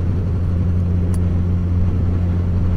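Loud, steady engine drone and wind rumble from riding a 2019 Suzuki GSX-S1000 motorcycle, continuous and unbroken throughout.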